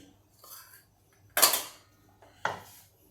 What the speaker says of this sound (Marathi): कढई मी या गॅसवर घेते जाडबुडाची कढई घेतली आहे